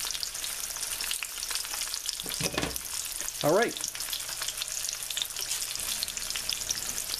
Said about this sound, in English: let's go ahead and take our little spring rolls and get them frying